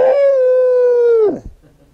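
A man imitates a beagle's howl with his voice, holding one long steady tone for over a second before it drops off, loud and close, followed by quiet.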